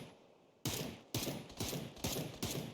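Video game gunfire in a casual online match: a quiet lull, then five sharp, loud shots or short bursts fired at a steady rhythm, each with a ringing tail.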